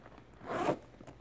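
A zipper on a Vince Camuto purse's small front pocket is pulled once in a quick, close rasp lasting about a third of a second, amid faint handling noise.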